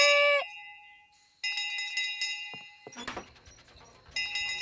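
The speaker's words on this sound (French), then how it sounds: "La cloche! La cloche!" A bell rings in a cartoon to announce dinner: bright, ringing tones that sustain, break off, then return, with a clanking burst in the middle, loud and close.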